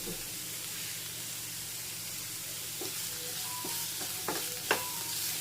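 Chopped onion being sautéed in a pan with salt, a soft continuous hiss of frying with a few light scrapes and taps of the spoon near the end, close and unaccompanied by speech.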